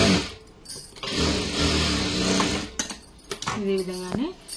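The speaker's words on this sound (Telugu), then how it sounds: "రెండు కుట్లు అనేది కుట్టు మీదనే కుట్టు వేసుకుంటూ రండి." A sewing machine stitches a blouse sleeve in a steady, close whirring run, then breaks into short bursts and handling clicks with a voice speaking near the end.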